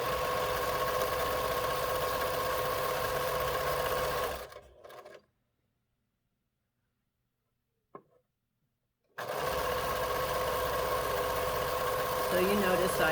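A sewing machine runs steadily while stitching four-patch quilt pieces, a continuous close mechanical whir that stops for a few seconds of silence with a brief tap, then starts up again.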